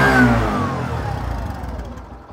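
A Bajaj Platina 110 motorcycle engine is blipped with a little throttle, rising into a loud, close rev at the start and then dropping back toward idle as the note falls away.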